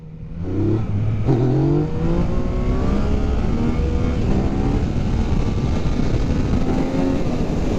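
A motorcycle engine revs hard in first gear through a power wheelie, rising from a low idle into a loud, sustained roar with climbing pitch that holds close and strong for several seconds.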